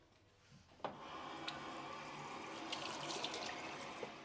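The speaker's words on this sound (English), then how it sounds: "I'm going to do a 2-minute hand wash" Running tap water during a two-minute hand wash before setting up an automated peritoneal dialysis machine, a steady close wash of water with a few soft knocks and splashes throughout.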